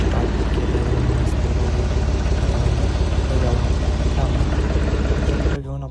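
A tractor engine runs close by in a village, a loud, steady, throbbing drone that holds evenly and then drops away abruptly just before the end.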